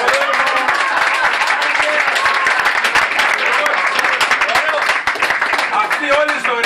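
Audience applause fills a small live music venue, a dense and steady wash of many hands clapping close by for the full stretch, with only a slight dip in intensity near the end.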